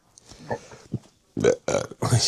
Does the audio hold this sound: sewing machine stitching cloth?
no